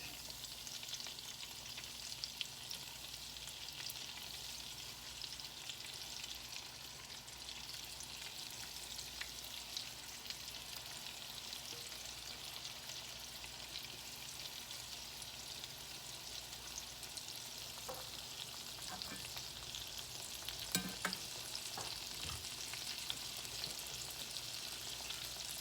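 Battered okra fries steadily in hot oil, a dense, even sizzle and crackle that holds for the whole stretch, with a few brief pops and stirring scrapes near the end and no talking.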